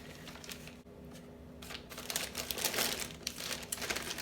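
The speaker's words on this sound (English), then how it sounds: "So once your potato gnocchi is frozen, then all you have to do is just gather them up and place them in a Ziploc bag." Frozen potato gnocchi are gathered and dropped into a Ziploc plastic bag, giving close, crinkling plastic rustles and soft clicks of the hard pieces that grow busier toward the end, with no talking.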